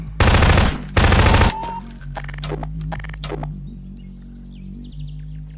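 Two loud bursts of rapid automatic gunfire in the video game Garry's Mod, followed by scattered clicks and faint chirping game effects.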